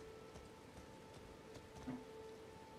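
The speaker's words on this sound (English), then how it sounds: "Oh, it's raining." Steady rainfall in Elden Ring, a soft continuous hiss of drops on the ground with a low ambient tone running underneath, even and unbroken throughout with no talk.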